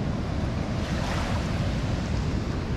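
Fast-flowing water rushes down over a pavement beside an abandoned cream factory in Totnes, giving a loud, steady, broadband roar that stays unbroken throughout, with a touch of wind noise on the microphone.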